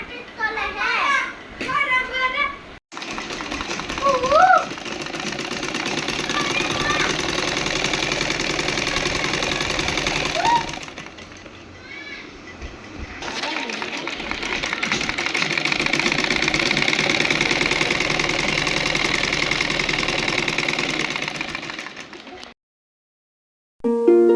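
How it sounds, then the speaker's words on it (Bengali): A sewing machine stitches a salwar in a steady, long whirring run that drops out briefly near the middle, while children's voices and chatter sound in the background at the start. "আমি কাপড় সেলাই করতেছি, একটা সালোয়ার সেলাই প্রায় হয়ে গেছে।"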